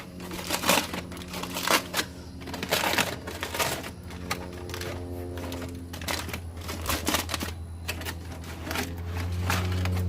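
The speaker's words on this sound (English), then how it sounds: "I'm gonna open up the foil and see how the ribs look" Aluminum foil crinkles and crackles as it is peeled open from smoked spare ribs cooked by the 3-2-1 method, irregular crumpling bursts close up over a steady low hum.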